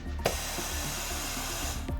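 An OLED screen laminator's vacuum pump runs down in a steady, close, broadband whoosh and hum, holding level throughout with a brief click near the start and no talk.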